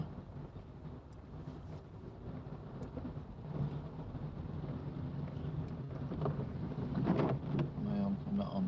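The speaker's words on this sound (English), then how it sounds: "the rain is belting down now" Heavy rain drums on a car driving slowly around 10 mph between Wigan and Ashton-under-Lyne, a dense wash of rumble and splashing that builds gradually in loudness, with scattered sharper hits.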